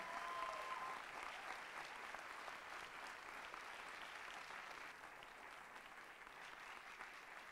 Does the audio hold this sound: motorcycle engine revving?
no